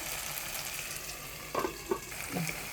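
Tomatoes cook in a covered pan over a low flame, giving a soft steady sizzle with a few brief clinks and bubbling bursts near the end, and no talking.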